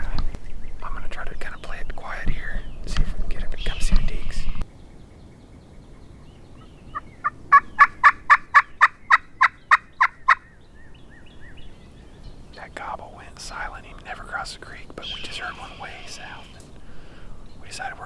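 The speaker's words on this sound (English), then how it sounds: "I just struck a gobble off to the east" A wild turkey gobbles in the distance during a spring hunt, a quick rattling burst of about a dozen pulses between stretches of a hunter's whispered talk.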